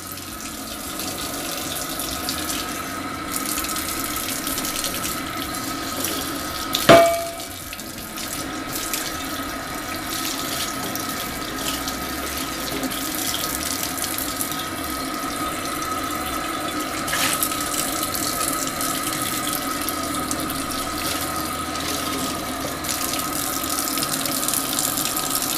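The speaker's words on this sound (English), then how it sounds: "Here we have some hot water running." Hot water runs steadily from a tap onto a de Buyer blue carbon steel crepe pan. The even hiss holds for the whole stretch, with one sharp knock near the start.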